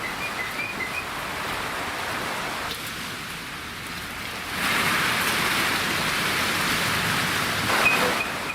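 Heavy rain pouring during a strong storm, a dense, hissing wash that stays continuous and swells louder partway through, close and enveloping with no voices.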